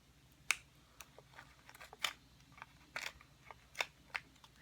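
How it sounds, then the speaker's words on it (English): Scissors cut card stock into two strips at a craft table, giving several short, crisp snips spaced irregularly over a few seconds. The cuts are faint and close. "I will just cut this one into 2 larger strips."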